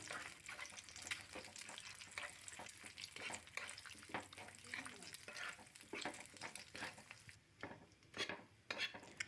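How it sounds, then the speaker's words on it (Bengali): Egg with salt frying in a pan as it is stirred and scrambled, giving a busy sizzle with frequent scraping and tapping of a utensil against the pan, close and continuous. "লবণটা দিয়ে ডিমটা একটু ভাজা ভাজা করে নেব।"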